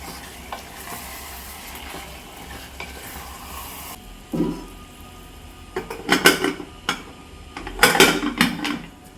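Mutton biryani ingredients stirred in a pressure cooker pot, soft sizzling at first, then several loud metallic scrapes and clanks of a spoon against the pot, close and intermittent.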